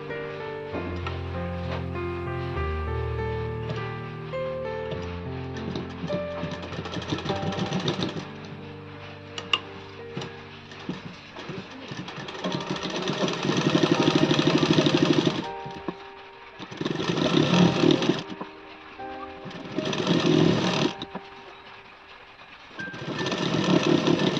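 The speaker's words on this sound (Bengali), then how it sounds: "ওপর থেকে সেলাই দিতে দিতে নিচে নামবেন" A sewing machine stitches the seam of a six-panel petticoat, running in several loud, steady bursts with short pauses between them, after a stretch of music at the start.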